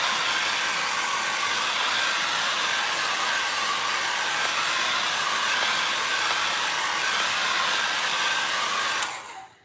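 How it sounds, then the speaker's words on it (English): A handheld hairdryer blows steadily over a freshly pulled gel print, a loud, constant airy whoosh running without break for about nine seconds before it switches off and quickly fades out. "we'll dry that one a little bit with my hairdryer."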